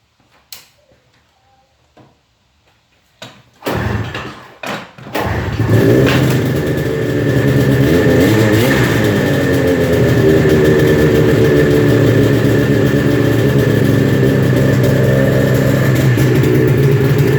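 A 1997 Ski-Doo Formula S 380 snowmobile's two-stroke engine takes a few pulls and clunks, then catches and settles into a loud, steady, close idle.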